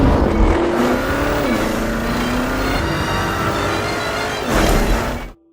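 A Porsche Cayenne Turbo GT with a V8 engine revs hard and close, a loud sustained roar with rising and falling pitch, surging again near the end before cutting off abruptly.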